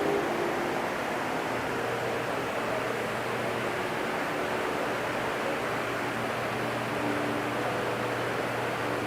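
Steady, dense hiss of rain falling continuously, broad and even with no breaks, a low hum running underneath.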